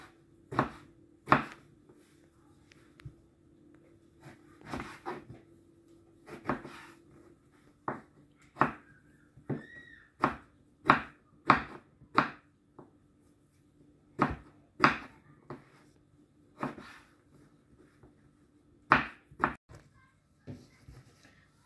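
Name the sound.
chopping eggplant with a knife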